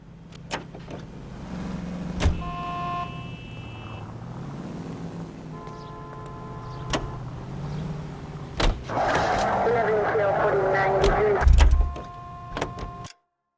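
A vintage car in L.A. Noire drives with a low, wavering engine drone, interrupted by sharp clunks and thuds like doors or impacts, with a louder noisy stretch near the end and speech mixed in.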